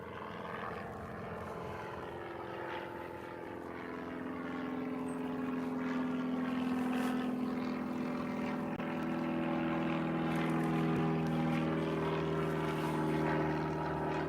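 A Piper propeller plane in Spitfire Special livery at Liverpool John Lennon Airport drones steadily with a humming propeller tone, growing louder as it nears and holding strong through the end.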